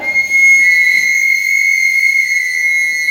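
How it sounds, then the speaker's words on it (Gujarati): Children blow whistles together in a classroom, making one loud, shrill, sustained tone that holds steadily throughout with no talking over it. "સિસોટી વગાડો વગાડો"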